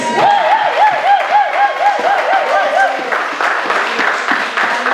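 A church congregation at a youth service applauds to acclaim God, a dense, steady wash of clapping with crowd voices and a warbling sung or shouted tone riding over it for the first few seconds.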